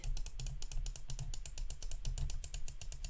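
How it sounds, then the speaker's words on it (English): Rapid, dense clicking runs without a break, crisp and close, like fast keyboard or mouse presses during gameplay. "So much clicking."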